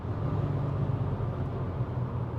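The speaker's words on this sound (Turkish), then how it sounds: "Ya bu motorun sesi de güzel." Engine of a VW Tiguan 1.4 TSI 160 hp under hard throttle while climbing a hill at highway speed around 140 km/h: a steady low drone with road and wind roar inside the cabin, continuous and fairly loud, no talk.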